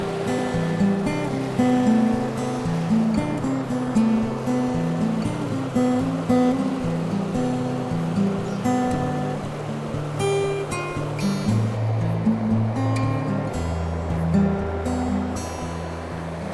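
Fast water rushing through a small trout stream run, a steady broadband wash of current and riffles close by, continuous and fairly loud with no voices.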